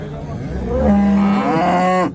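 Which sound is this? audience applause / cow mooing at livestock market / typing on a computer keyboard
cow mooing at livestock market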